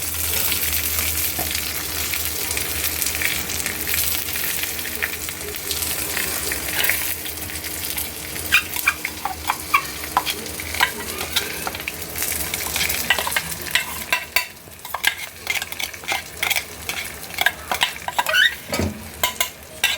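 Ginger frying in oil in a pan while being stirred for Kerala-style inji puli: a steady close sizzle with scraping spoon strokes and occasional clinks. Sharp scraping taps grow more prominent toward the end.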